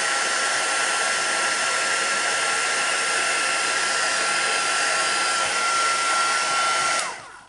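Heat tool blowing hot air over stamped paper craft flowers, a steady loud roaring hiss held for about seven seconds before switching off, with no talk.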